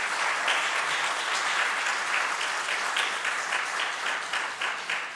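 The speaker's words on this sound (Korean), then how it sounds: "박수로 환영해 주시기를 바랍니다." A church congregation at a Sunday service applauds to welcome visiting guests, with steady, dense clapping that stays even and fills the room for several seconds before easing slightly.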